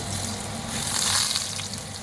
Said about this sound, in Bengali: কালো জিরে ফোড়ন দিয়ে দিয়েছি